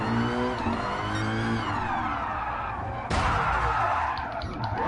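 A car engine revs loud and steady in a racing video game, a Dodge SRT up against a Shelby, climbing in pitch, then jumping abruptly on a gear change with tire noise mixed in.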